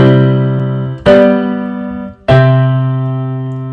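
Three sustained keyboard chords forming a passing progression, played one after another, each struck and left to ring and fade; loud, clean and close.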